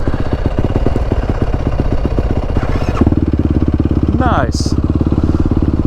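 A motorcycle engine runs steadily and close by, its rapid pulsing beat continuing throughout with a slight shift in tone partway through, while someone speaks briefly over it.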